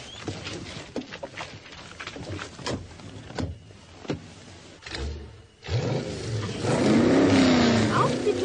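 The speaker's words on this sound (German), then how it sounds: "Mit qualmenden Reifen rühren die beiden Wagen los" Two cars in a radio-play street race, a Dagger DX and a red Porsche, launch off together with smoking tyres; engines rev up loudly in bursts after a few clicks and thumps, building into a sustained roar.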